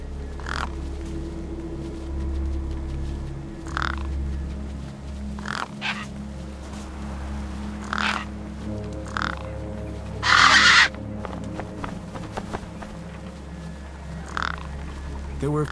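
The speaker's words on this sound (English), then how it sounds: "The gang birds were eyeing up the corpse hungrily." Gang birds in a video game caw over a corpse, with harsh calls repeating at irregular intervals against a low ambient hum and one louder burst of noise.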